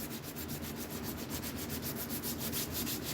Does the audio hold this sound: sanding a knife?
yes